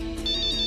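A phone ringtone trills in a steady repeating electronic pattern, loud and close, with no talking over it.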